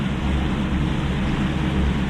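A boat motor idles on a lake, a steady low droning hum with a constant churning rumble and no change in pace, close and continuous.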